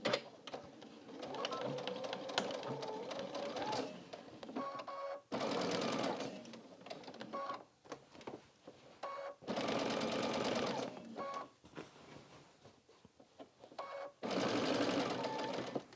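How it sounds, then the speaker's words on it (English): A sewing machine runs in several loud, steady bursts with brief stops between, stitching picket edge pieces onto the side of a quilt-as-you-go quilt. "I'm going to start sewing my side picket edge pieces on"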